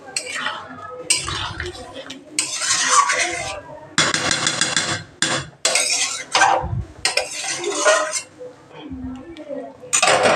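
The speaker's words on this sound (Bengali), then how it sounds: "নেড়ে চেড়ে 5 থেকে 6 মিনিট কষাবো।" Aloo posto, potatoes cooked with poppy seeds, is stirred in a pan with a utensil, making repeated scraping and clinking bursts at close range, broken by short pauses, with a voice talking at times.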